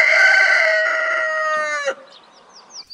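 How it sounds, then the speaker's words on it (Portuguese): A rooster crows loud and close on a farm, one long harmonic call that breaks off sharply near its end, followed by faint chirps of other birds in the background. "o famoso canto matinal que ecoa nas fazendas e áreas rurais"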